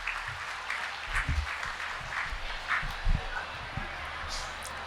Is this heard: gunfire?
no